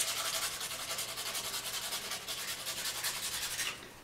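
Sandpaper rubbed over painted collage paper in steady, rapid back-and-forth strokes, close and continuous, stopping just before the end.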